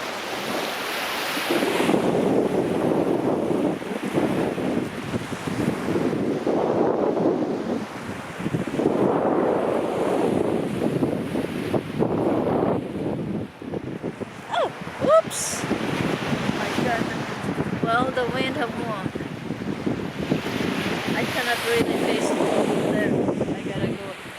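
Waves wash onto a beach in repeated surges while wind buffets the microphone, the surf rising and falling roughly every few seconds throughout.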